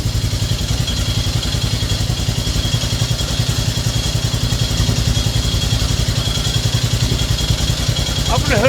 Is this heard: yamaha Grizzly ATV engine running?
yes